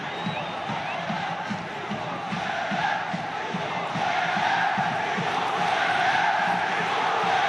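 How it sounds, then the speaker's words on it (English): A packed football stadium crowd at an Al Nassr match roars continuously, a dense, loud wash of voices that swells louder through the second half. "just listen to the noise inside this stadium"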